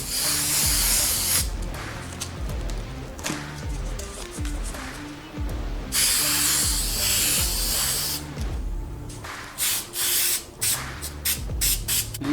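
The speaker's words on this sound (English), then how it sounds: "I'm going to use this 3M Super 77 to lay down the adhesive for the fabric." 3M Super 77 spray adhesive hisses from a can in long, loud bursts broken by short pauses, then quicker, choppier sprays toward the end, laid onto fabric for a car interior.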